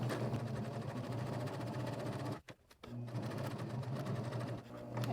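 A sewing machine stitches a stacked fabric Christmas tree with a steady, close motor whir, briefly stopping mid-seam for an adjustment before running on again.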